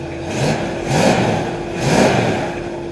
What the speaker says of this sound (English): you can hear that cylinder missing because the lifter's pumping up